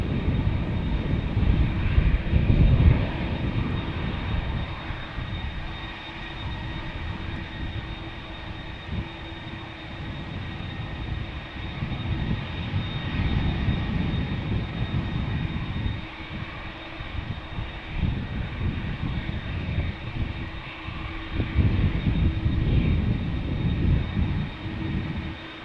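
An American Airlines jet airliner, flight to Dallas, approaches at Amsterdam Schiphol with a loud, sustained engine roar that swells and fades in waves across the whole stretch, heavy low rumble dominating, no voices.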